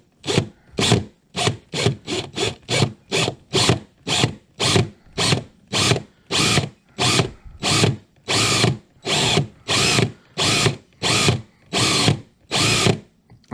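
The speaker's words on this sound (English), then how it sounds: "drilling a hole in your kayak" A power drill runs in a steady series of short bursts into a fishing kayak hull, about twenty pulses with brief gaps between them, close and loud with no talking.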